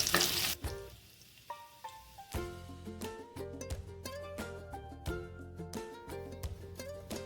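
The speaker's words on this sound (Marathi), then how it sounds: "आपण आपले हे बटाटे गोल्डन ब्राऊन होईपर्यंत परतून घेणार आहोत तर मधून मधून हलवत राहायचं" Potatoes frying in ghee while being stirred, a soft sizzle under recurring clinks and scrapes of a utensil against the pan, with melodic background music playing throughout.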